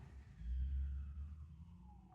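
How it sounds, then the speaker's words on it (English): Faint, distant sirens wail with slowly sliding pitch over a low background rumble, rising and falling beneath steady ambient noise. "there's sirens going off."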